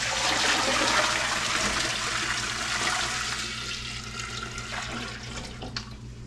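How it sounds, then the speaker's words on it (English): Water pours steadily into a canning pot sitting on an induction cooktop, a loud, close, continuous rush that gradually eases toward the end. "Just pour this water in here."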